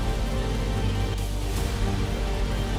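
Heavy rain driven by strong wind during a thunderstorm in Sambhal, Uttar Pradesh, a dense, steady roar of rainfall and gusts that holds unbroken from start to finish.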